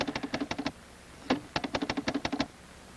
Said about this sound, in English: the program and input data are typed out and automatically transcribed into punch tape